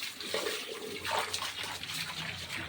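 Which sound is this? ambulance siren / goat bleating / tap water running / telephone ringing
tap water running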